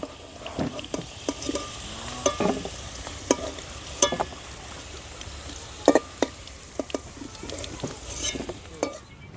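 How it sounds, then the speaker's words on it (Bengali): Vegetables frying in oil for Bengali shukto, a soft continuous sizzle broken by repeated sharp clinks and scrapes of a spatula against the pan. "শুক্তো রান্নার জন্য আমি প্রত্যেকটা সবজি প্রথমে এইভাবে ভেজে নেব"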